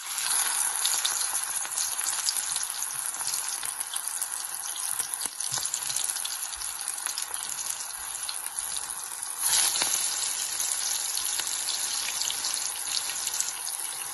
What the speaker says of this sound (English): Once the oil is hot, roll out small patties and deep fry them